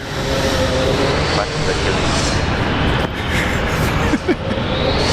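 An Airbus A321 jet airliner at Brisbane Airport gives a steady, loud, broad engine roar that holds for several seconds, with faint voices over it.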